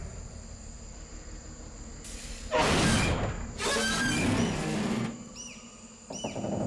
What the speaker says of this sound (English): Hold on for emergency brakes.